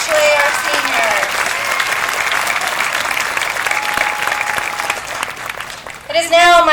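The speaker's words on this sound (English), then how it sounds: "Let's have one more round of applause for our band" Sustained applause from a graduation ceremony crowd, honoring the school band, a dense steady wash of many hands clapping that fades slightly before a voice speaks at the end.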